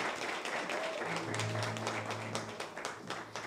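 An audience applauds contestants at a neighbourhood pageant event, a steady wash of many hands clapping throughout, with a low hum and a faint voice briefly rising beneath it.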